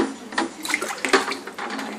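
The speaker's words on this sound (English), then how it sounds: "So it's actually a cold water sparge. Just dump it in on top." Filtered water dumped on top of grain in a home-brewing mash for a cold water sparge, giving a close, rushing splash and pour that lasts about two seconds with no talking.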